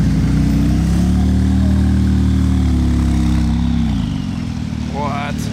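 A sports car engine rumbles loud and close in a steady deep drone, dipping slightly partway through before a rising whine near the end.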